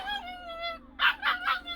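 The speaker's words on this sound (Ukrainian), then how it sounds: "собака гавкає, просить на допомогу" A puppy stuck in a hole whines in a long, drawn-out tone, then gives three quick, high yips in a row, fairly close by.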